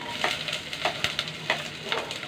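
Ginger sizzles in a hot pan while being stir-fried, a steady hiss broken by several scraping stirs, close and alone with no talking.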